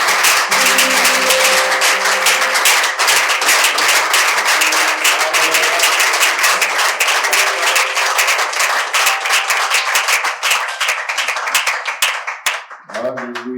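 An audience at a collective fasting and prayer gathering applauds to welcome a speaker, loud dense clapping that grows more rhythmic and then tapers off, with voices emerging at the very end.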